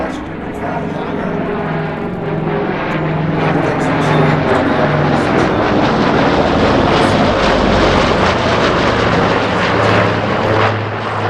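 A plane flies low over the Sun 'n Fun airshow with a steady, loud propeller-engine roar that swells and holds throughout, with voices faintly mixed in underneath.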